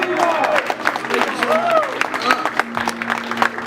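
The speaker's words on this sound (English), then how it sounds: "Ladies and gentlemen, give a big hoorah round of applause for Glen Bradley" Applause and crowd noise greet Glen Bradley at an evening Ron Paul rally in Raleigh, with dense clapping and cheering mixed with voices throughout, steady and fairly loud.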